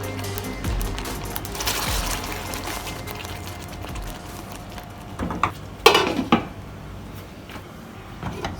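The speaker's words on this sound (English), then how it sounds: "Don't stir, just shake." A pan of mutton kofta curry is shaken rather than stirred, giving soft sloshing and rattling pan noise with a few sharper clanks of metal near the end, close and moderately loud, with no talking.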